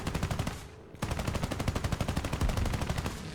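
An F7F-1 Tigercat's aircraft guns fire in a video game in rapid, loud bursts, with a short stop near the start before a longer sustained stream of rhythmic shots.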